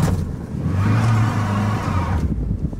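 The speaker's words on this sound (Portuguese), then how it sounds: "agora o carro vai patinar no meu lugar" A Volkswagen Saveiro Cross engine revs hard in the rain as its wheels slip, a loud, close, rising drone held for about two seconds before easing off.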